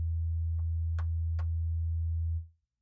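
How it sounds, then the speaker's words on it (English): E sub bass tone for a remake, a steady deep sustained hum that cuts off near the end, with a few faint clicks above it. "we're going to throw an E sub that kind of covers the same thing that this bass version of our guitar sample is doing"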